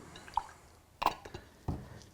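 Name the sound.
water with brown paint poured into Sculptor Mold mix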